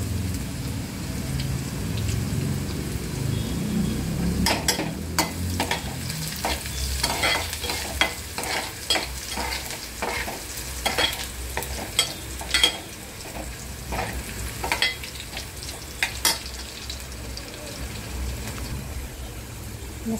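Garlic and onion frying with cumin in a pan, a steady sizzle joined after a few seconds by a run of quick, irregular stirring clicks and scrapes of a spoon against the pan.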